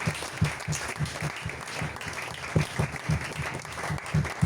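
A church congregation applauds steadily, dense clapping with rhythmic surges throughout, moderately loud and close.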